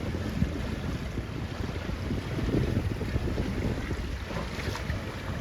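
Gusty wind buffets the microphone on open water at a C420 sailing regatta, with waves and hull splash rolling beneath a continuous breathy roar and no voices.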